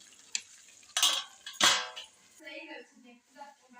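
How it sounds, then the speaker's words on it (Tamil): A plate is set over a cooking pan of semiya upma as a lid, giving two sharp ceramic clanks against the metal, with a voice talking softly afterward. "தட்டை போட்டு மூட போகிறோம்"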